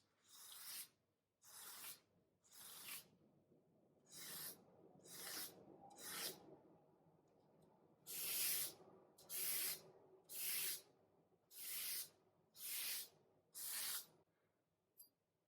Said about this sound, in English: to remove burr using old newspaper is the easiest way